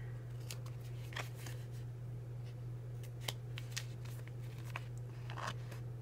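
Scissors snip through paper, trimming the edges of a flamingo mini page, with scattered short cuts over a steady low hum, close and fairly quiet.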